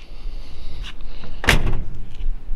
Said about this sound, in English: Door shut nice too.